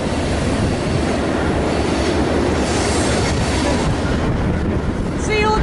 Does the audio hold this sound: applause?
no